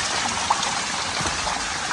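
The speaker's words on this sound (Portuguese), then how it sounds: "tá escorrendo aqui, tem que ter mais, ó. Bastante água." Water runs from a spring on a farm, a steady close trickling and splashing flow that fills the short stretch without any talking.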